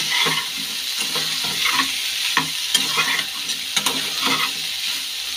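Soya chunks and green peas fry in a hot pan with a constant loud sizzle, while a spoon scrapes and stirs in repeated bursts.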